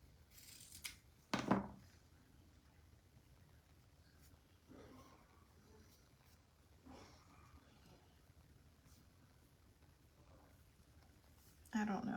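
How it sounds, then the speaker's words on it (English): Scissors cutting down a double-layer tobacco cloth bow: a few brief, soft snips and rustles spread out over a quiet room, with light speech in between. "let's cut it down first and see"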